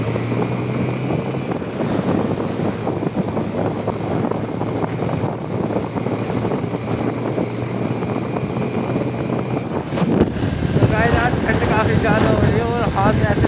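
Motorbike ride on a road in foggy, cold weather, with steady engine drone and heavy wind rush buffeting the microphone throughout, growing louder near the end.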